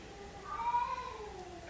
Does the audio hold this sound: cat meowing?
yes